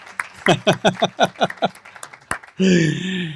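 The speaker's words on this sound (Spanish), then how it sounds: "Voy a pedir un aplauso a Will" Church congregation bursts into applause near the end, a loud, sustained wash of clapping that follows a few seconds of rhythmic voiced sounds, like laughter or speech.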